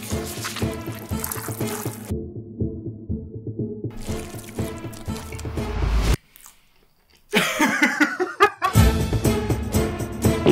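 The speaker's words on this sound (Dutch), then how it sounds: "Bij deze oefening eet ik het welbekende visburgertje, maar mag ik mijn hele visburgertje in water dippen en dan opeten?" Chewing a fish burger that has been dipped in water: wet, squelchy bites and mastication noises come close and loud in bursts, with a short silent gap partway through.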